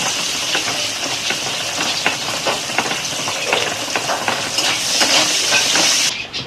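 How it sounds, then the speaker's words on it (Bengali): Onions frying in a pan for egg curry, making a loud steady sizzle with crackling pops and scraping stirs throughout. It is close and there is no speech. "পেঁয়াজগুলো লাল করে ভেজে নেব"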